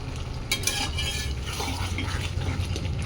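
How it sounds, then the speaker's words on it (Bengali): Taro and chicken with spices being stir-fried in a pan, a steady close scraping and stirring over a low hiss of frying with occasional utensil clinks, no voices. "ভালোভাবে কষিয়ে নিচ্ছি।"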